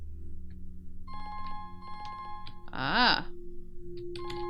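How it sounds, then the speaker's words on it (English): A telephone rings in the video game Rakuen, a repeating electronic ring in short bursts against quiet background music, with a brief vocal groan partway through. "The phone is now ringing."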